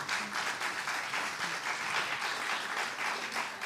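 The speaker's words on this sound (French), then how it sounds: "Il y a des applaudissements." Applause from an audience at a French panel discussion on crises and solidarity, a steady dense patter of many hands clapping throughout at moderate level, with no talk over it.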